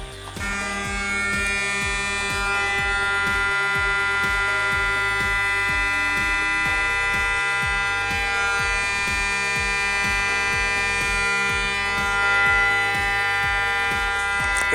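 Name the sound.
200 Hz test tone played through a speaker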